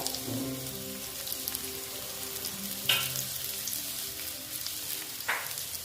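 Chili powder and ginger paste frying in a pan for a fish curry, a continuous soft sizzle with a couple of brief stirring scrapes, close and moderate in level, no voices.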